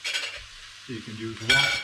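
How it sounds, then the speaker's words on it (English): Savoy cabbage sizzles in a hot pan while being stirred, with a crisp hiss, soft scraping of the spoon and a few light clinks against the pan, up close and fairly quiet. "just warm everything through and mix everything through sufficiently"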